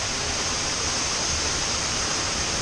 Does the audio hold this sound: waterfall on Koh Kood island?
yes